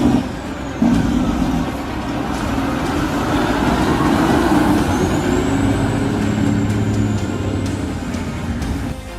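A Mack logging truck drives past with a steady, loud diesel engine rumble, a brief air brake hiss near the start, and a high whine creeping in over the last few seconds.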